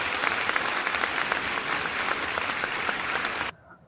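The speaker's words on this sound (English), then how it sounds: "We're going to give that a hand clap." Crowd applause at a weekly concert event, dense and even clapping from many hands that holds steady, then cuts off abruptly near the end into near silence.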